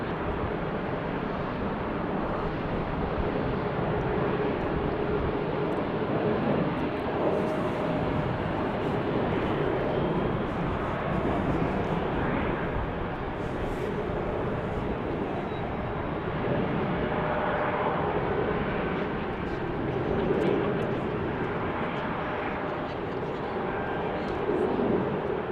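Continuous broadband roar of aircraft engines at Salt Lake City Airport, steady and fairly loud for the whole stretch, with a faint voice now and then.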